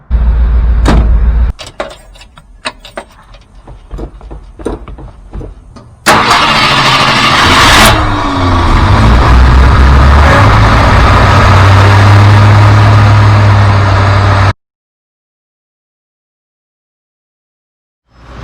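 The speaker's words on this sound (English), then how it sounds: "so we got the engine running here" A barn-find Ford Thunderbird engine with a freshly rebuilt carburetor cranks with a few sharp clicks, then catches and roars to a loud, steady idle before cutting off abruptly into silence.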